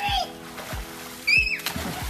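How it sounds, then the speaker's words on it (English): Water splashes and sloshes in a family swimming pool as a father tosses his young daughter in the air, with several bursts of splashing over steady background noise and a voice heard briefly. "he's tossing his daughter Jasmine in the air while playing in the pool"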